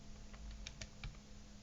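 A few faint keyboard taps, spaced irregularly, over a steady low electrical hum.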